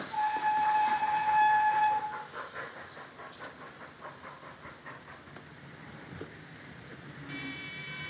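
A train at a railway station in a 1942 film, opening with a sustained whistle blast, then rhythmic clanking and hissing of cars rolling past, with a second short whistle near the end.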